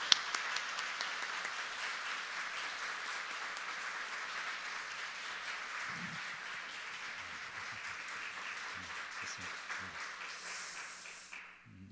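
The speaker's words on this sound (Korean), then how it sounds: "간사님을 환영하는 마음으로 우리 뜨겁게 박수를 모시겠습니다." A church congregation applauds steadily for about ten seconds at a Sunday afternoon service, a dense wash of clapping in a large room, with faint voices underneath before it fades.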